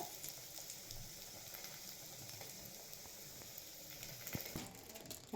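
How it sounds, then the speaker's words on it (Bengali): A Mughlai paratha fries in hot oil on a tawa over a low gas flame, giving a steady, soft sizzle and crackle that continues evenly throughout without talk. "আমার মোগলাই পরোটা আরেকটা তৈরি করে রেখেছিলাম, সেটা আমি এখন তাওয়াতে দিয়ে দিলাম।"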